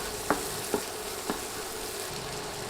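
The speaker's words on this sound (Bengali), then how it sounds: "একটা টমেটো কুচি করে কেটে দিয়ে দিলাম। এখন নেড়ে নেড়ে ভেজে নিচ্ছি।" Chopped tomato frying in a pan for a dal and egg dish, a steady soft sizzle broken by three distinct scraping stirs of a spoon, no voices.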